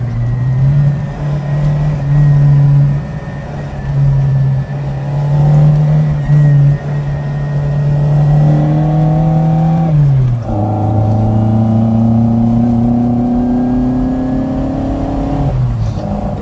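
Fiat 131 Abarth rally cars driven hard on narrow roads, a loud, strained engine howl holding high revs, then dropping on a gear change and climbing again, close and continuous with no voices.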